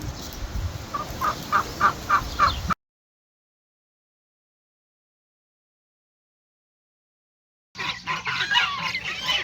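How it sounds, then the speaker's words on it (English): Ducks on a farm pond call with a run of repeated honking quacks, close and fairly loud, then the sound drops out completely before more bird noise resumes. "Today we also released out to the pond the latest of our ducks"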